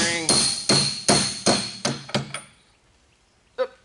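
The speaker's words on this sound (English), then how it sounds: "Let me find a socket that'll fit it. And we just tap the bearing." A bearing is tapped into a 1972 International Harvester Cub tractor part with a socket, six sharp metallic knocks in a quickening series that grow lighter, then a single final tap after a short pause, close and clear.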